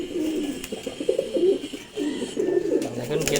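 Giyachulli pigeons coo close by in short, soft, throaty bursts, one call after another over a low background hum.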